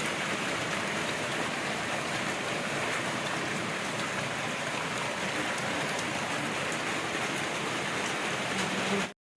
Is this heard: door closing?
no